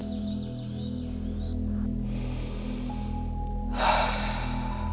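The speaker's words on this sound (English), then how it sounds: "Let's take a moment to take a deep breath." During a guided meditation, one deep breath is drawn in as a short, airy rush about two-thirds through. Before it, a low sustained musical drone plays quietly.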